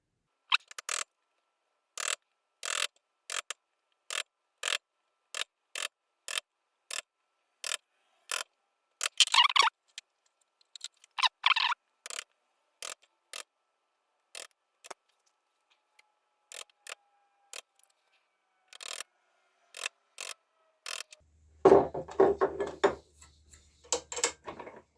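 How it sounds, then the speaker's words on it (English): Sharp, evenly spaced taps of a chisel chipping out wood on a model railway bowsider wagon's balcony, about twenty distinct clicks in a steady rhythm, close and quiet, ending with a brief rougher scraping burst. "now we've got the most of the bit off with the chisel"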